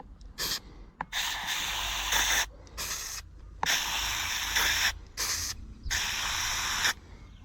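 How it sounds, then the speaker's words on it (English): Carb cleaner is squirted into a chainsaw carburetor in about seven sharp hissing bursts of varying length, separated by brief silences, close and loud with no talking. "Get some carb cleaner, just give it a squirt in there."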